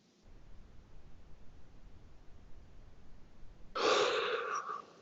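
Soft steady breathing from a person during a guided meditation, faint and continuous near the microphone, ending in a louder, rougher breath toward the close.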